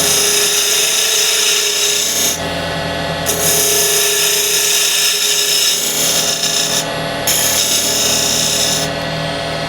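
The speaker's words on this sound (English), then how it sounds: "Square end scraper going straight in" A square end scraper cuts into red resin and wood spinning on a lathe, giving a steady loud rasping scrape with brief pauses and no talking.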